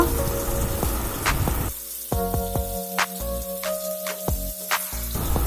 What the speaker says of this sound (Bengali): এবার মিডিয়াম টু হাই ফ্লেমে আমি পটলগুলোকে ভালোভাবে লাল করে ভেজে নেব।